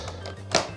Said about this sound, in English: So let's see if the door still closes.